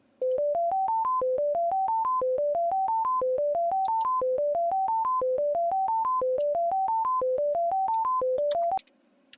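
Microtonal scale notes from the Beat DJ app, a synthetic tone stepping upward in short repeating runs of about seven notes each, looping steadily for around nine seconds with crisp clicky attacks, alone and loud.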